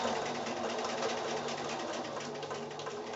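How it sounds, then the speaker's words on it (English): A sewing machine runs steadily, stitching quilt fabric a quarter inch from the edge for a wall-hanging, a continuous close mechanical whir with no pauses. "I'm just sewing in 1/4 inch from the edge."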